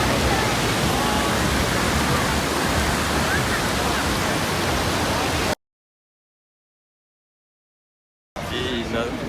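A waterfall of melting glacier water in the mountains of northern Pakistan roars as a loud, steady rush for several seconds, then cuts to silence before a brief return of the sound.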